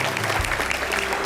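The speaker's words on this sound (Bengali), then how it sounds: "বর্ধমানের জন্য জোরে হাততালি হোক" A studio audience on a Bengali quiz show breaks into loud, dense clapping, a brief continuous burst filling the room.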